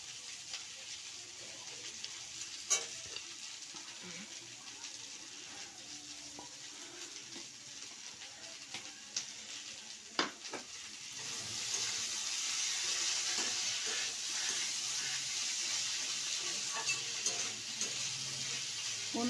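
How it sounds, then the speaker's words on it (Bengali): Flat beans cook with mustard paste in a pan, making a faint, hissing sizzle with occasional small clicks. The sizzle grows steadier and louder in the second half, and no one talks. "এবার আমি এই সর্ষে বাটাটাকে দিয়ে দিচ্ছি।"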